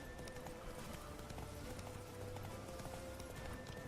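A horse gallops in The Witcher 3 with a dense, continuous clatter of hooves, held at steady volume over faint ambient game sound.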